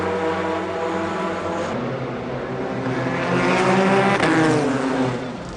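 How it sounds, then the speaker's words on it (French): An Audi race car at the 2002 24 Hours of Le Mans pulls into the pits, its engine droning loudly and swelling briefly as it moves past, with no one speaking. "Tout va bien en revanche pour Johnny Herbert dans l'Audi numéro 2 alors qu'il s'arrête au stand"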